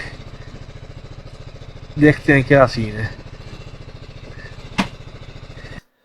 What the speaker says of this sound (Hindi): चलें जनाब, अपनी बाइक खड़ी करते हैं इधर